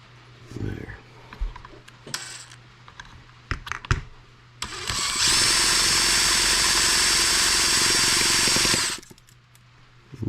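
A cordless drill with a starter attachment spins an M14 twin cylinder tractor engine for a few seconds in a sustained loud whirring burst, after several clicks and knocks from handling.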